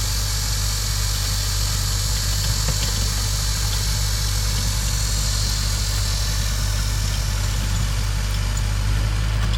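A farm tractor pulling a rotary tiller works soil in a field, its engine giving a steady, loud low drone with constant mechanical vibration and no talking.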